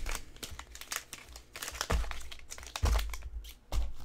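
Crinkly packs of trading cards are shuffled by hand, producing irregular bursts of crumpling and rustling plastic with a few heavier thumps, close and fairly quiet with no talking.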